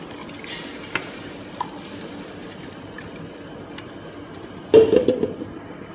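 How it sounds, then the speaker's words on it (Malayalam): Atta batter being stirred in a pan with ghee, a soft steady scraping and low simmer throughout, with a louder burst of stirring near the end; no talking. "അതുപോലെ ഒന്ന് ഇളക്കുക."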